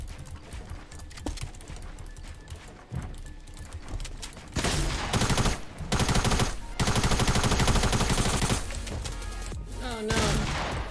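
Shotgun and rapid gunfire in the Fortnite Battle Royale video game: loud bursts of shots that become dense and continuous in the second half, with game sounds around them.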